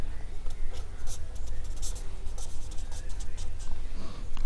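A marker scratches and squeaks across a board as a diagram is drawn, steady short strokes heard up close under a faint room hum, without speech.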